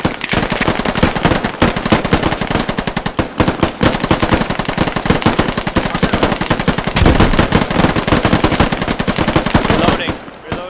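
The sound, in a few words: suppressing gunfire in a video game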